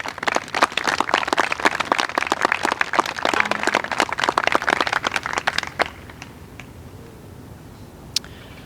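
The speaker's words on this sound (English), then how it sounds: "Round of applause for the Borman family" Crowd clapping at a high school military ceremony for a family whose child is joining the Marines, dense and lively for about six seconds before thinning to a few scattered claps.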